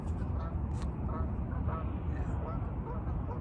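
Geese honk and quack outdoors beside a log, a continuous busy flock chorus carried over steady wind or ambient noise, moderately loud and close.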